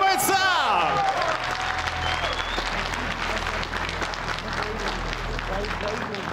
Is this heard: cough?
no